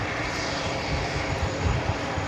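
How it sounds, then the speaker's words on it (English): A Delta Airlines Boeing 737-900ER jet takes off on runway 13 right at New York's JFK Airport, giving a loud, steady engine roar that fills the short span without a break or any speech. "Next takeoff on 13 right is Delta Airlines flight 2323 heading to Austin, Texas, 737-900ER."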